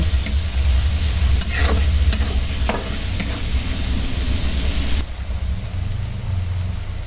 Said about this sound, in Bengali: এখন সুন্দর করে লবণ হলুদ দিয়ে কষাই নেব